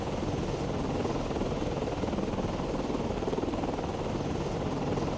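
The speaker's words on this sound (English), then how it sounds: "Got our helicopter out." Carrier-launched helicopter flying in the naval submarine game Cold Waters: continuous, fairly loud rotor thrum and turbine whine, steady and unbroken, with no talking.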